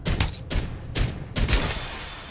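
A beam weapon fires in the battle royale shooter Farlight 84, with several loud, booming bursts in quick succession during combat and no voices.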